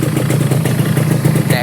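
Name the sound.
Yamaha RX-King 135 motorcycle engine revving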